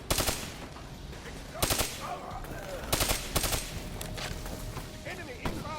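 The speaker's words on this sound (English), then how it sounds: "Shoot down those vats." Rapid bursts of automatic gunfire in Call of Duty Black Ops 3, loud and close, with several separate volleys over a steady game soundscape and brief voices mixed in.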